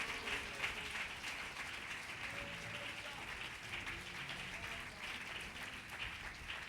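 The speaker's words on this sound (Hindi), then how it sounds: "कम ऑन, तालियां बजाकर प्रभु की महिमा कर सकते हैं आप।" A church congregation's applause during worship sounds faint and distant, a steady wash of clapping throughout.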